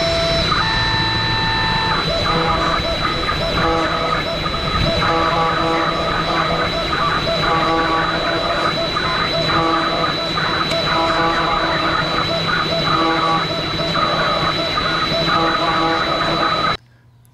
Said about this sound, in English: Now it's time for machining on my Genmitsu 4030 CNC.